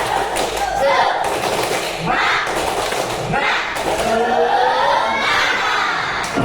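Primary school pupils do the tepuk semangat together, sharp rhythmic claps and desk-like thuds punctuating loud group chanting by children's voices, filling the classroom in repeated bursts.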